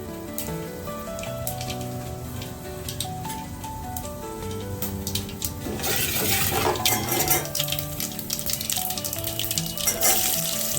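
Curry leaves, fenugreek and mustard seeds frying in hot oil, a soft steady sizzle that swells into louder crackling and popping partway through, heard with faint music and no talk.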